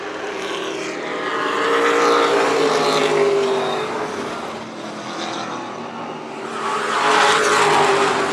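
Stock cars in a WESCAR 100 race at Hythe Motor Speedway roar around the oval, engines swelling loud as the pack passes close, easing briefly, then surging again as more cars sweep by.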